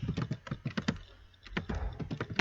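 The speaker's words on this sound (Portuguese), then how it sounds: "Eu vou digitar printf e vou escrever digite" Quick bursts of typing on a computer keyboard while writing a printf line in C, clustered clicky keystrokes with a short pause midway, close and clear with no speech.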